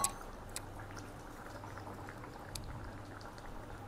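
Jaggery dissolving in water bubbles steadily in a pan on the stove, with soft, close popping and gurgling and a few sharper pops.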